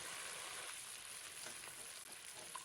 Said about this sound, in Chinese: 再次给它搅拌均匀。